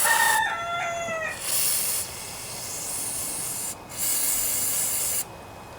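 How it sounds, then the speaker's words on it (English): A rooster crows once near the start, a bright rising call, followed by bursts of loud hissing spray into the tubes of a Snapper riding lawnmower that won't start, starting and stopping several times. "he's having a contest with another rooster in the neighborhood"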